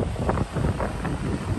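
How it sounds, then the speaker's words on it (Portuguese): Strong beach wind gusts in through a partly opened glass curtain, making a steady, loud broadband rush with swelling gusts and buffeting on the microphone; no one speaks. "Vocês estão começando a sentir um pouquinho do vento?"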